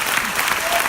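Festival audience at L'Étrange Festival 2018 applauding a series presentation, dense sustained clapping from a crowd, loud and close.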